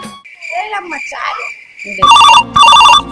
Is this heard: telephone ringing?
yes